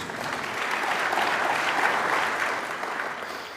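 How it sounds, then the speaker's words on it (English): A crowd at a food and farming awards ceremony in Glasgow claps in sustained applause, a dense steady patter that swells slightly and then begins to fade. "So give yourselves a big round of applause."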